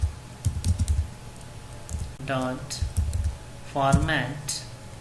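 Clicking keystrokes on a computer keyboard while typing Java code in Eclipse, short irregular bursts of taps close to the microphone, with someone talking in between and over them.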